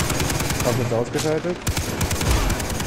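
Automatic gunfire in Far Cry 3 rattles in rapid bursts close by throughout, while someone speaks briefly over the shooting.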